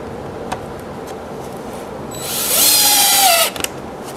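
Power drill driving small three-quarter-inch screws into a small padded wooden stool, one sustained whirring burst of about a second rising in pitch then cutting off, close and loud over quiet room tone.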